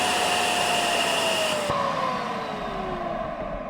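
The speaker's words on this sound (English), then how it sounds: "he also has the Festool vacuum cleaner, which is automatic. So when you power on the machine, the vacuum cleaner also turns on." Festool dust extractor switched on automatically with a power tool during boat hull work, a loud steady whooshing whine that drops in pitch as it changes speed, heard alone.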